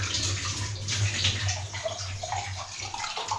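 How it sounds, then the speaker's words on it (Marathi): A drinking glass is rinsed under running water, a steady close splashing flow with slight shifts as the glass is turned, with no talking. "आपला हा ग्लास घ्यायचा, तो धुवायचा आधी आणि धुवायचा."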